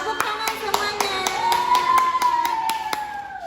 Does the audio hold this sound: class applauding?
yes